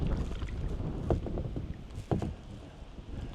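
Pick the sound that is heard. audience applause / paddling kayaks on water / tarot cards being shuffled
paddling kayaks on water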